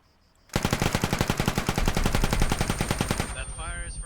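Friendly gunfire in the Arma 3 military game starts abruptly as a sustained, fast, rhythmic burst of automatic shots close by, then falls off into a faint voice at the end.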